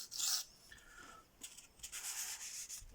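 Close, gritty scraping strokes of a Para 3 knife blade drawn across a Venev bonded diamond sharpening stone, several uneven passes in quick succession, fairly quiet, with no talk.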